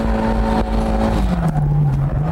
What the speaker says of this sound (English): Shift down and put the pedal to the metal.